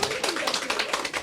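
Brief, lively clapping from a workshop audience welcoming citizen presenters, a close, dense burst of hands with an uneven patter and no speech over it.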